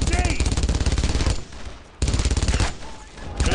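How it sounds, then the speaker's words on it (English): Rapid machine gun fire in Brothers in Arms rattles in two long, loud bursts of evenly spaced shots, separated by a brief pause, with a third burst starting at the end. "fire on that MG. Take out that goddamn MG."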